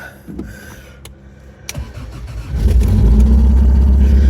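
An engine cranks and catches after a timing belt job, then settles into a loud, steady low rumble that continues to the end, following a brief quieter whirring of a pump at the start.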